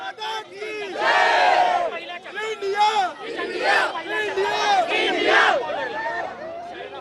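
Young crowd on Fergusson College Road celebrating India's T20 World Cup cricket win over Pakistan, a loud mass of voices chanting and shouting in rising waves, dense and continuous with many people close by.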